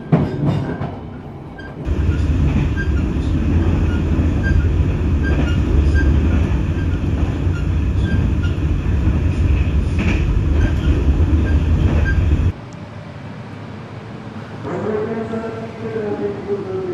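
Kutojaya Selatan, an extra passenger train in Indonesia running during the 2025 Lebaran homecoming season, gives a steady, loud rumble of wheels and carriages that drops suddenly to a quieter interior hum, with a faint squeal near the end.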